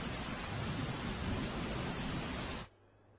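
Torrential downpour in Surat, a dense, loud, unbroken hiss of heavy rain that cuts off abruptly near the end.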